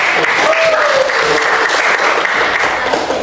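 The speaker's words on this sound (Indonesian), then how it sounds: "Dan kita berikan aplaus untuk kelompok 1" A classroom group of students applauds Group 1 after their presentation, with a burst of sustained, fairly loud clapping that carries on steadily for a few seconds.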